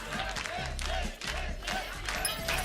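Studio audience at a French-language TV game show cheering and shouting in rhythmic bursts, a loud close crowd chant that surges and dips briefly before swelling again.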